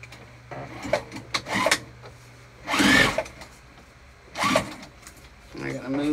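Sewing machine stitching a bag lining to the front panel, heard in short whirring bursts of varied length with pauses between them, close by, with someone speaking softly in the gaps.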